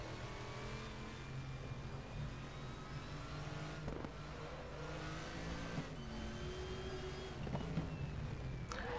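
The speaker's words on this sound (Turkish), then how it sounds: "Crossplane kranklı V8'in sesi." An American V8 with a crossplane crank revs steadily in a racing setting, a continuous throaty engine drone with rising and falling pitch and occasional sharper bursts, heard alone without talk.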